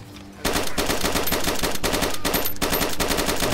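Rapid automatic gunfire in the survival shooter DayZ Standalone, a sudden loud burst of fast repeated shots that keeps hammering steadily, with a brief dip before the firing resumes, after a quieter lead-in.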